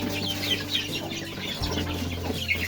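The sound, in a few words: hen and chicks clucking on a Philippine farm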